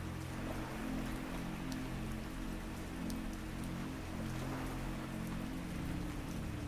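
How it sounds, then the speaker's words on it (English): Rain patters steadily against a window aboard an overnight ferry to Norway, a dense even hiss of drops over a low engine hum, soft and continuous throughout. "The rain against the window no longer arrives as separate taps."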